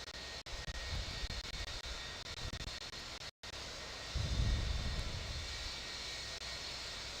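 A simulated airliner jet engine spooling up during startup in the Infinite Flight game, a steady broadband roar that swells louder partway through, with a brief dropout midway and no talking.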